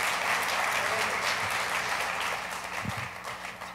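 At a Father's Day church gathering, a crowd applauds a speaker with a thick, continuous round of clapping that fades gradually toward the end, with faint voices underneath.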